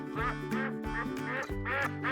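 Ducks at a farm pond quack in a quick run of loud, close calls, several overlapping in a steady, nasal rhythm.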